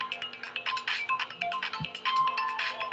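A telephone ringtone plays indoors as a clear, repeating electronic melody of bright, pulsing tones, heard alone and fairly loud.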